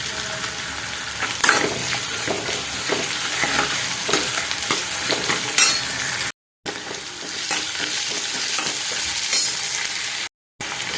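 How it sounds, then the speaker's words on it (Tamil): Food frying on a low flame with salt added, for a Tamil tomato kuzhambu, gives a steady close sizzle with stirring scrapes, broken by two brief moments of silence. "ஸோ இப்போ இது நல்லா சிம்மில் ஃப்ரை பண்ணிக்கோங்க."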